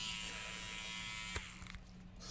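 A Philips electric trimmer buzzes steadily and quietly, a thin constant motor hum with a brief click partway through, heard alone without talk.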